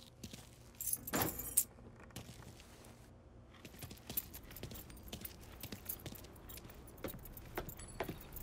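Car keys jangle in a brief metallic rattle in the video game Mafia III, followed by soft footsteps, rustling and faint ambient background noise.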